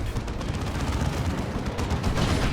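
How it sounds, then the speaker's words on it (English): A misfiring plasma cannon in the Warhammer strategy game Dawn of War 2 blasts as a loud, dense, continuous roar of battle noise with no pauses. "Misfiring plasma cannon."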